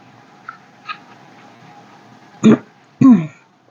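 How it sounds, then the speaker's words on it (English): Two harsh, close coughs with throat clearing from a person frogging and hand winding yarn in a dusty room, following a couple of faint smaller sounds against quiet room tone. "Just a little cough that was coming up."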